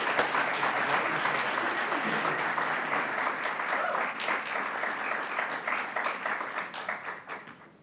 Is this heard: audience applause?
yes